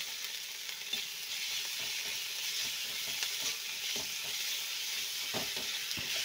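Ginger paste sizzling in a small amount of hot oil with already fried garlic in a pan, a steady bright crackling hiss broken by occasional soft scrapes and taps.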